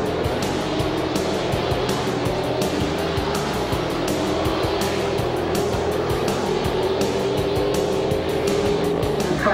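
A V8 touring race car at Bathurst roars continuously under load, its engine note slowly rising in pitch as it accelerates, loud and steady from start to finish with a gritty tyre and wind wash behind it.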